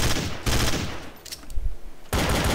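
Rapid Glock pistol burst fire in Counter-Strike: Source, loud clattering volleys at the start and end with a quieter stretch of scattered shots between, no voices.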